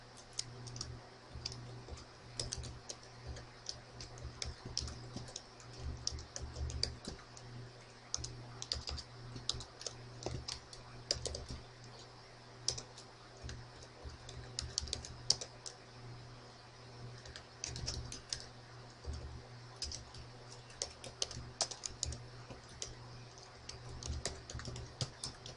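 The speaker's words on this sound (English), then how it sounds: "from the administrative PowerShell window here, type in this rather lengthy commandlet" Someone types a long PowerShell command on a computer keyboard, with rapid uneven bursts of close, crisp key clicks and short pauses throughout, quiet and with no talking.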